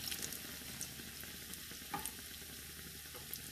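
Chicken bread pakora sizzles steadily in hot oil in a pan after being flipped, a close, constant crackling fry with small pops scattered through.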